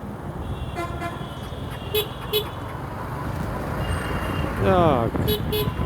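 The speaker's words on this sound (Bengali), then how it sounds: "এই যে এখান থেকে শুরু হয়ে গেছে জ্যাম" Several short car horn toots sound over dense idling and creeping traffic in a jam on the Mayor Hanif Flyover, with a louder, longer honk near the end and steady road noise underneath.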